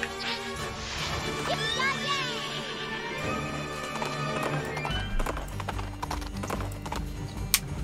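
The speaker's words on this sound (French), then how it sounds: "Ce brave cheval nous a suivis." Cartoonish horse hooves clip-clop in the Princess Peach Showtime video game, layered with bright game music, whooshes and effects, with a brief crash midway and occasional talk over it.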